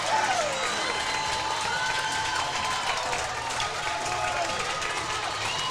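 Spartan fans at a high school hockey game between Mayo and New Prague break into sustained applause and cheering, a dense, steady crowd roar that stays loud throughout.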